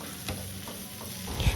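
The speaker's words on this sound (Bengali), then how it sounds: "একটা প্যানে কিছুটা পরিমাণ তেল গরম করে ঢেঁড়সগুলিকে দিয়ে হলুদ এবং স্বাদ মতো নুন দিয়ে লাল লাল করে কিন্তু ভেজে তুলে নিতে হবে" Okra sizzling and frying in hot oil in a pan with turmeric and salt, a steady close crackle with a few soft stirring scrapes and a louder burst of spatter near the end.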